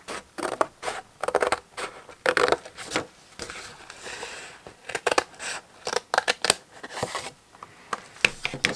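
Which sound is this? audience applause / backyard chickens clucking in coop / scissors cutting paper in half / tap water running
scissors cutting paper in half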